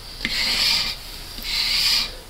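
A tool scrapes and rasps along the edge of a plaster rooster plate mold in two steady strokes, each lasting about a second, close and fairly loud, with no talk.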